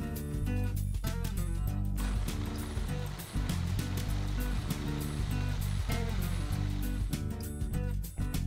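A blender purees red pepper hummus made with chickpeas, salt and extra virgin olive oil, giving a loud, steady motor whir with churning, sloshing noise that runs without a break for the whole stretch.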